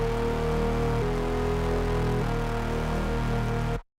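Plain Reese bass synth with its processing switched off, a steady buzzing detuned drone holding low notes with a couple of note changes, loud and alone before cutting off abruptly.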